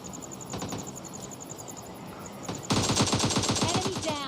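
Rapid automatic AKM gunfire in PUBG Mobile Lite, a loud burst of evenly spaced shots that erupts after softer game ambience and distant shots, with a faint voice underneath.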